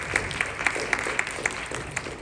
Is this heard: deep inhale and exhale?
no